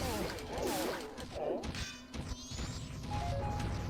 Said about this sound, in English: These guys, you can do a Goron Pound.